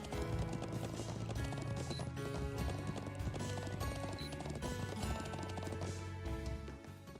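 Horse hooves clip-clop in a quick, steady rhythm in the video game Trails of Cold Steel II, set under a busy game music track.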